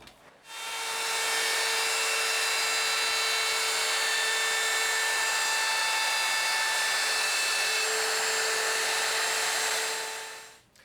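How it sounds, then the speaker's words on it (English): A router with a 3/8-inch half-round bit eases the edge of a hardwood floor repair in a Craftsman bungalow, a steady high-pitched motor whine holding loud and even for about ten seconds before spinning down. "I'll ease the edge with a 3/8 half-round router to match the front."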